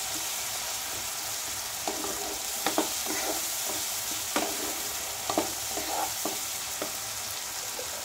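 Water from ground garam masala paste poured into a frying pan of spiced food, setting off a loud steady hissing sizzle with scattered stirring scrapes and clicks, close up and without talking.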